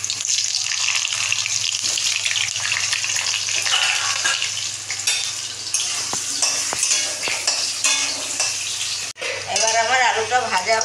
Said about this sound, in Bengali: কড়াই তেল দিলাম, এবার আমি আলুটা ছেড়ে দিলাম।